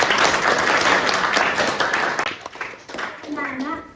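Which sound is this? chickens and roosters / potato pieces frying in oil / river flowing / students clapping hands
students clapping hands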